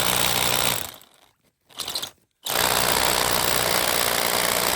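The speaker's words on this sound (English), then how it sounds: "So let's hurry and get these drilled in." Hammer drill boring holes into concrete to anchor rebar for a dog fence, a loud harsh continuous rattling that cuts out briefly, gives a short burst, then resumes steadily, close by.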